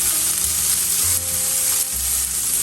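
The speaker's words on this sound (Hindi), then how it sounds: "अभी बॉइल्ड लौकी पील भी डाल देते हैं। इसे भी हमें मीडियम फ्लेम पे 4 से 5 मिनट फ्राई करना है।" Boiled bottle gourd peels stir-frying in a pan over a medium flame, a loud, continuous sizzle with a few stirring scrapes and no talking.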